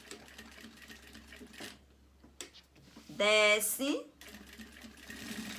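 A sewing machine stitches and backstitches a notebook sleeve in one short, rapid burst of mechanical clatter, with someone speaking Portuguese before and after it.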